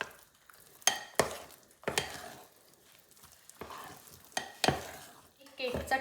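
Thick eggless banana cake batter with cashews and chocolate chips being folded with a spatula: a series of wet scraping, squelching strokes, close and moderately loud, spaced unevenly, with no voices.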